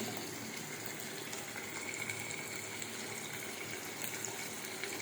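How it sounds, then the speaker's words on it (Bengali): Food fries in ghee with a soft, steady sizzling hiss that stays quiet and unbroken throughout. "আমি ঘি দিয়ে ভাজছি"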